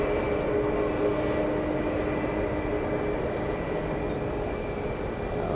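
A United airliner taking off from the runway at SFO airport, heard as a steady, broad engine roar that holds at an even loudness throughout, with no talk.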